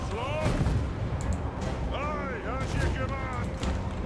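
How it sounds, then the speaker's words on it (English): Dwarf artillery bombs firing in the Total War: Warhammer strategy game, a steady rumble of booms and crackling shots beneath whistling projectile sounds, with some voices in the battle mix. "I'm gonna go ahead and get some bombs in here."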